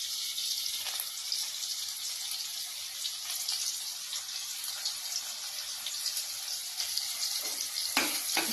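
Ginger and garlic hit hot oil in a home kitchen pan, a faint, steady hiss of frying with a few clinks near the end.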